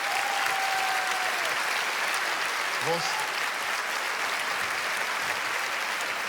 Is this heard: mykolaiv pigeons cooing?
no